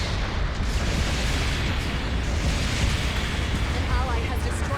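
Explosion of a destroyed enemy mobile suit in the GBO2 video game, a steady loud rumbling roar of blasts and debris filling the moment, with a voice speaking underneath.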